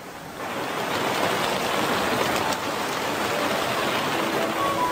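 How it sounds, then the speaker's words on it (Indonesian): Steady rain pours down around a forest building, heard from a sheltered porch; a dense, even hiss of falling water that stays loud and unbroken throughout, with no voices. "Duduk di bangku panjang menghindari percikan air hujan."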